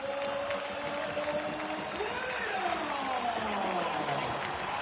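Stadium crowd at a Liga MX football match applauding and cheering as its star forward, Dairo Moreno, is substituted off, a broad sustained roar under a commentator's voice with whistle-like tones.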